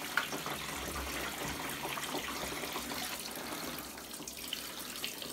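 Water steadily fills a Costway mini twin tub washing machine with a little fabric softener added, giving a continuous rushing, splashing flow heard up close, with no talking.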